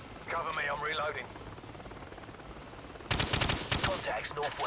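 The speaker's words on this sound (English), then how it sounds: "Choppers inbound!" Helicopter rotor drone in the Call of Duty 4 video game, under radio-style voices and broken by bursts of rapid gunfire partway through.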